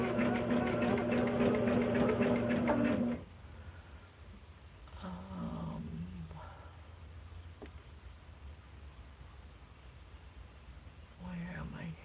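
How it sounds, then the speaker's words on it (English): A sewing machine stitches fabric scraps onto a foundation, with a steady, fairly loud motor whir for about three seconds before it stops. A voice then speaks quietly over a low room hum. "And stitch on the line."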